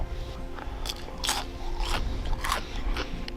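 Crunchy fries bitten into outdoors on a fall fishing trip at Lake Superior, giving several close, sharp crunches at an uneven rhythm with no talking.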